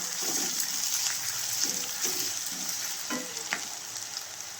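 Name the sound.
onions frying in a pan for mushroom gravy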